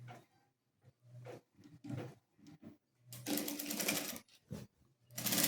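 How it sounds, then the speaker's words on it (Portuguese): A sewing machine stitches a fabric headboard cover in short, stop-start bursts of fast, close needle rattling separated by quiet pauses, with one longer, louder run near the end. "Vou costurar aqui também"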